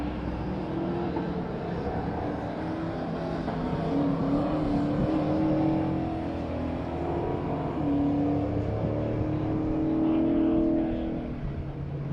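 Race cars circling a track during a timed run at a NOLA motorsport event, a steady engine drone with rising and falling revs from passing cars, continuous and mid-distance over 12 seconds, no talk.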